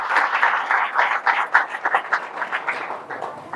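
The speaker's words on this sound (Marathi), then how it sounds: "प्रभू हनुमंतरायासाठी एकदा जोरात टाळ्या व्हायला पाहिजे।" An audience claps for Lord Hanuman at a Guru Purnima festival satsang, a steady wave of applause with pulsing surges that carries evenly through the whole moment, with no talking over it.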